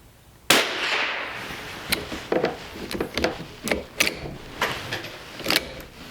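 A Winchester Model 250 rifle fires once with a sharp, loud report, followed by a series of short metallic clicks and clacks as the action is cycled, close by with no talking.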